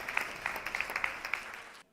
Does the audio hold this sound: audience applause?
yes